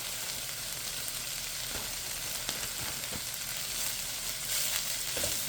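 A grated carrot and vegetable mixture for kebabs sizzles in a pan on the stove as its water cooks off, giving a steady close frying hiss with small crackles throughout and no talk.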